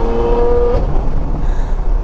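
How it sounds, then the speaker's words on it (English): A sports car engine revs hard and loud from close range as it runs through gear shifts, with a quick rise in pitch before the shift. No one speaks. "Oh, the shift sounds so good."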